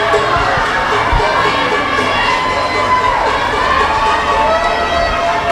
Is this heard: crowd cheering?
yes